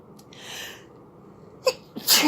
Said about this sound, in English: before I sneeze you out of this video